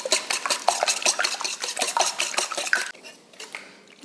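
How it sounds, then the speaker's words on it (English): Eggs being whisked in a bowl while meal prepping, heard as quick, repeated clinks and scrapes of the whisk against the bowl, close and fairly even, thinning out near the end. "So we need to whisk our eggs."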